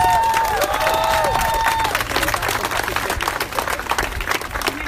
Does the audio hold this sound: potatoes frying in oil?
no